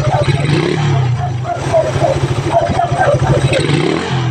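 A Suzuki Raider motorcycle tuned with a big carburetor runs close by, its engine throbbing and pulsing through repeated revs at steady, loud volume, with voices audible over it.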